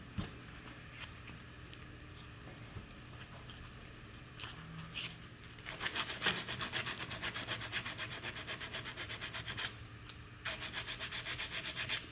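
An aluminum VW Beetle alternator housing from a 1979 Super Beetle being filed flat with a hand file. Close, raspy rubbing strokes come in bursts that grow denser and steadier partway through, with no talking.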